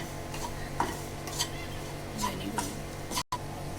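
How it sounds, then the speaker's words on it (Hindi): Chicken filling with black pepper, red chili powder and salt is stirred in a pan, with faint background sizzle and repeated spoon scrapes and clinks at irregular intervals. "ये तमाम चीज़ों को डालने के बाद इसको अच्छे से मिक्स कर लेंगे।"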